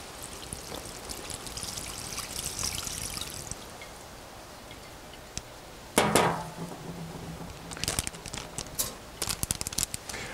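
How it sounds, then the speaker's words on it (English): Marinade pours in a steady trickling stream, close and continuous, into a Ziploc bag, then the plastic bag crinkles and rustles. "let's just pour a marinade in"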